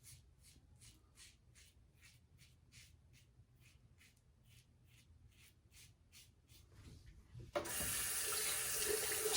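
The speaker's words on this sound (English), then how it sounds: "Let me just get rinsed up here with some water." Water runs from a tap for rinsing after a shave with Goodfellas Smile Syntesi and Styletto razors, first a quiet repeated splashing and then the faucet opening to a loud, steady rush near the end.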